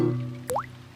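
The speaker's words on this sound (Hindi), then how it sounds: "डैडी पिग बूंदें इकट्ठा करने के लिए बाल्टी का इस्तेमाल कर रहे हैं।" A single water drop falls into a bucket with a short bright plip and rising ring, heard close and alone after a fading low hum.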